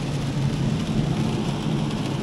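Steady rain falls under a low, continuous rumble of thunder, heard from inside a vehicle on a road with construction works in Austria.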